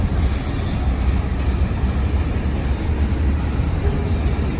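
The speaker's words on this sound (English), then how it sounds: "The Via train." A Via passenger train rumbles past nearby in Montreal, a steady low roar of wheels on rails with faint squeals, no voices.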